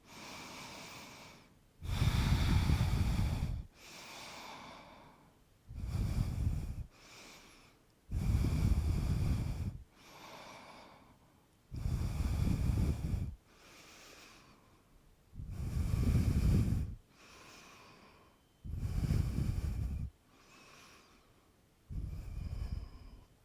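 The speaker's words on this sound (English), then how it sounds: "Three more breaths here." Deep, slow breaths during a yoga pose, alternating long inhales and exhales in a steady rhythm, close and clear with no talking, roughly ten breath cycles.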